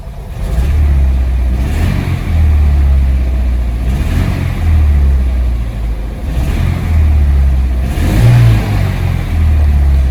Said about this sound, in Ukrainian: Зараз спробую газу дати.